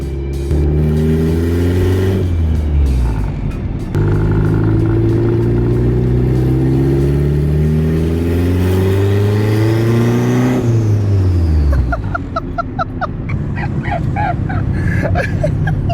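A turbocharged Honda Civic revs and accelerates up through its gears nearby, the engine note climbing and dropping in repeated sweeps, then settling into a lower, rougher idle with sharper sounds near the end.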